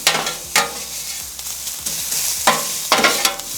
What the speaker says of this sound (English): All right, let's get our pork in.